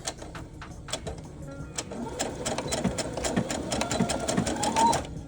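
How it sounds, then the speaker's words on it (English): A sewing machine runs steadily, backstitching along thin fabric for a long stretch, its motor whir and needle chatter continuous and close, with a few clicks along the way. "I do a long backstitch on the thin fabric"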